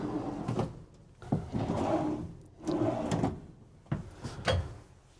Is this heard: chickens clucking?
no